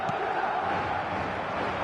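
A football stadium crowd roars in a steady, dense wash of voices, restless and impatient, with a commentator talking over it.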